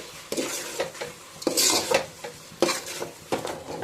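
Mushrooms and ginger paste fry in a pot as a spoon scrapes and knocks against the metal in several loud, uneven strokes over a light sizzle.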